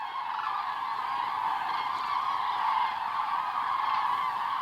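Migrating cranes call steadily in a dense, continuous chorus over farmland on the Baltic coast in Denmark or Latvia. The massed flock sounds moderately distant and never breaks, with no talk over it.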